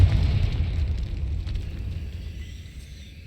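Fiery explosion from a Confringo spell in Hogwarts Legacy, a loud rumbling blast with deep low roar that slowly fades over a few seconds, no voices.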